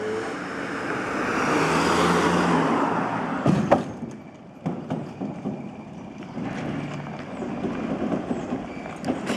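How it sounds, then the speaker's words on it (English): A car driving up to a narrow one-lane bridge on Holiday Island, Arkansas, heard as a steady broadband road rumble that swells and fades, followed by sharper knocks and clatter, with no talk over it. "And another car is coming now for this bridge."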